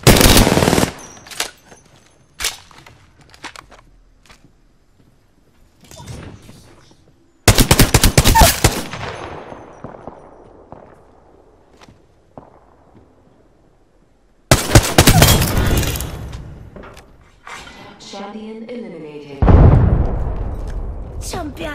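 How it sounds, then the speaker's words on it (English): Bursts of automatic gunfire and explosions from the battle royale video game Apex Legends, loud rapid volleys in three separate clusters with echoing tails, interspersed with single shots and in-game effects. "I'm getting shot at."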